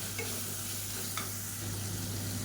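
Tomato with ginger garlic paste sautéing in a pan gives a steady, close sizzle with a low hum underneath, continuous for a couple of seconds without speech.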